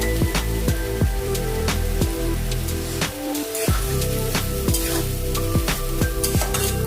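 Onion paste and tomatoes sautéing in a pan for katla fish kalia, giving a loud continuous sizzle with sharp clicking spoon strokes against the pan at a fairly steady rhythm.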